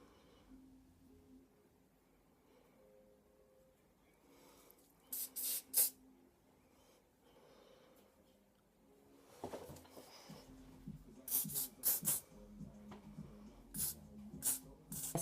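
Several short bursts of hissing aerosol spray, close and fairly loud, over a low background hum with faint rustling between bursts.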